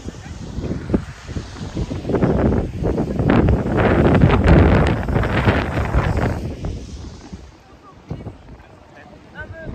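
Strong wind buffets the microphone on a boat trip, a loud rushing roar that swells and fades for several seconds and settles into a quieter stretch near the end, with some voices underneath.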